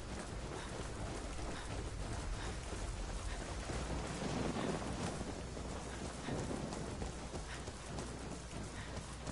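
Steady rain in a dark scene of a PS5 video game, a dense continuous hiss of falling water with low rumbling underneath that could be distant thunder, filling the whole stretch with no voices.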